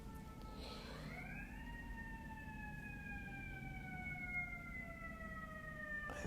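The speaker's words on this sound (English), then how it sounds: "I think it's the ambulance coming to take me away" A distant ambulance siren wails in long, slowly falling tones, sustained and faint over low street rumble.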